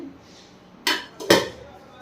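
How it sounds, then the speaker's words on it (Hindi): Dishes being washed in a home kitchen sink, with two sharp clatters of metal utensils knocking together, close and fairly loud against a quiet room. "मैं जो है थोड़े से बर्तन पड़े हैं सिंक में, वो धुल दूँ।"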